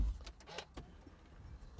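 A power seat motor in a 2020 Audi A6 hums steadily as the seat slides forward and lifts, with faint mechanical whirring and a few soft clicks close up inside the car cabin.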